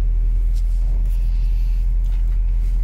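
A 1991 Nissan Datsun D21 4x4 crew cab truck is driving around a building, giving a low steady engine rumble that is close and constant, with no talk.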